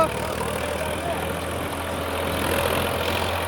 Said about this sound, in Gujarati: પહેલા ગેરની અંદર ટ્રેક્ટર ચાલે છે જોરદાર સ્પીડ છે ટ્રેક્ટરની